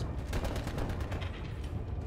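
Rapid automatic gunfire from the Call of Duty: Cold War shooter game, a steady stream of close, evenly spaced shots running through the whole moment at moderate loudness, with no voices.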